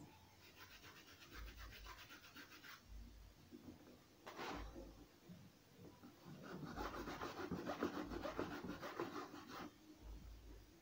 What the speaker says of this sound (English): now we are just scrubbing the shoe